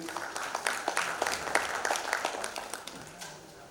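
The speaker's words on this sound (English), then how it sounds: "Huge round of applause for Shri Murty" A conference audience at a digital transformation panel discussion in Guwahati applauds for the session moderator, a dense, steady patter of many hands clapping that holds for several seconds, then thins and fades toward the end.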